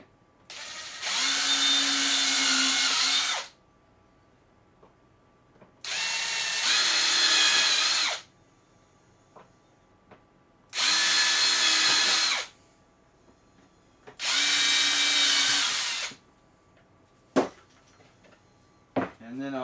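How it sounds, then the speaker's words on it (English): A power drill pre-drills holes in wood that splits easily, running in four loud, close bursts of about two to three seconds each, separated by quiet pauses with faint handling clicks. "I'm going to try to pre-drill as much as I can, because this wood tends to split real easy"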